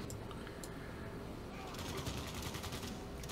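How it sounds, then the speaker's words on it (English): Faint bursts of rapid gunfire in the video game Civilization VI crackle in the background, with a couple of isolated shots early on before a denser volley. "Oh, that's where the gunshots were coming from."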